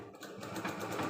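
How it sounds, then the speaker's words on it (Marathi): A sewing machine runs steadily, stitching a press seam onto the lining of a net blouse, close up with a continuous whirring rhythm. "हे जे अस्तर आहे त्याच्यावरती आपल्याला एक दाब टिप मारून घ्यायची आहे."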